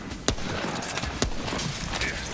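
Gunfire in the video game Remnant: From the Ashes, with two sharp, loud shots about a second apart standing out over a dense, continuous bed of game noise and combat sounds.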